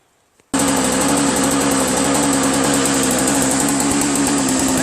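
A snowblower's small engine catches abruptly after a moment of near silence, then runs on at a loud, steady, buzzing idle outdoors in about an inch of fresh snow.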